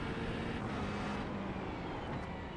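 Twin-turbo 4-liter V8 of a McLaren 720S GT3 Evo race car in the iRacing simulator, a steady, dense engine drone with a faint low hum, continuous and moderately quiet.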